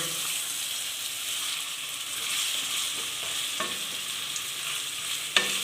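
Mutton sizzles steadily in a hot pan, a continuous frying hiss with a couple of faint clinks near the end.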